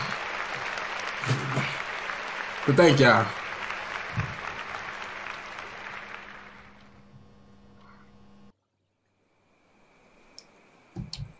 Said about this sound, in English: What the frick y'all clapping for?